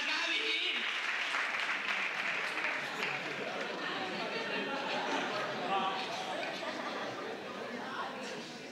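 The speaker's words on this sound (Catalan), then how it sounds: "un fort aplaudiment per la segona" An audience at a Santa Cecilia concert applauds warmly and steadily throughout, a dense wash of clapping with some cheering and chatter mixed in, fading slightly toward the end.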